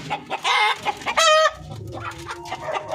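Native Filipino chickens cluck nearby in short repeated bursts, with one louder squawking call in the middle and softer calls trailing off, no talk.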